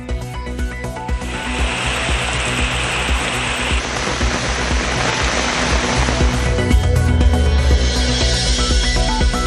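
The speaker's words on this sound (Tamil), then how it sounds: "திருநெல்வேலி மாவட்டத்தில் நீடிக்கும் கனமழையால் தாமிரபரணியில் வெள்ளப்பெருக்கு" Floodwater on the Thamirabarani river in Tirunelveli district surges after prolonged heavy rain, a loud, steady roar of rushing water that holds unbroken throughout with no voices.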